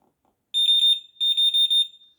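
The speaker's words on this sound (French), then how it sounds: "On allume notre détecteur." A Delkim fishing bite alarm beeps on being switched on, giving two quick runs of sharp, clean, high-pitched electronic beeps, about four each, close and clear against silence.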